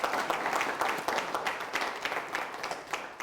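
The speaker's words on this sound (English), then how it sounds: "Please, a round of applause from everybody." A room full of people claps steadily, a warm wash of hand claps that holds for a few seconds without pause.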